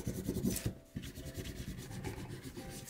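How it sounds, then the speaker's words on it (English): A hand scraper rubbing vinyl transfer tape firmly onto a smooth bathroom tile, giving a steady close scratchy rasp in repeated back-and-forth strokes with one short pause. "take your scraper again and just scrape it on really,"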